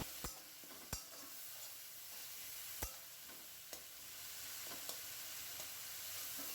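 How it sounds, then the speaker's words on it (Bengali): Spice paste for ghugni frying and being stirred in a pan, a continuous close sizzle broken by a few sharp clicks of the spatula against the pan, with no talking. "খুব ভালো করে নাড়াচাড়া করে মশলাটা কষিয়ে নিচ্ছি"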